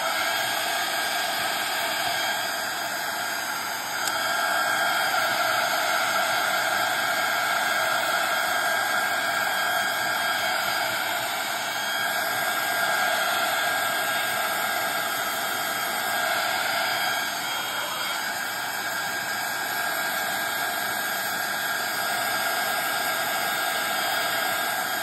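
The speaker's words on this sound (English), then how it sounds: "So I'm going to use my heat tool." A heat tool blows hot air to dry embossing on a papercraft project, a loud steady close whooshing roar that holds unbroken throughout with no talk.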